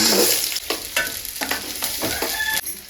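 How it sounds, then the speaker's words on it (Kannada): Chana dal, urad dal, moong dal, garlic and onion frying in a pan for chutney, a steady sizzle broken by repeated stirring scrapes, close and moderately loud with no talking. "ಕಡಲೆಬೇಳೆ ಉದ್ದಿನಬೇಳೆ ಹೆಸರು ಬೇಳೆ ಹಾಗೆ ಸ್ವಲ್ಪ ಬೆಳ್ಳುಳ್ಳಿ ಆ್ಯಂಡ್ ಈರುಳ್ಳಿ ಅದನ್ನು ಫ್ರೈ ಮಾಡ್ಕೋಬೇಕು"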